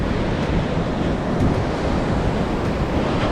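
Ocean waves wash continuously onto Strands Beach, south of Salt Creek, with no pause, heard as a loud, close, broadband roar mixed with gusting wind noise on the microphone.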